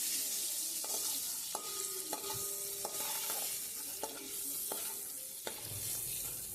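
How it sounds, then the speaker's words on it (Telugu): Boiled eggs frying in oil until golden for a spicy Andhra egg curry, a continuous close sizzle broken by repeated sharp spoon taps and scrapes against the pan, no voices. "ఉడకపెట్టి పక్కన పెట్టిన గుడ్లు, గోల్డెన్ కలర్ వచ్చేదాకా ఫ్రై చేసుకోవాలి."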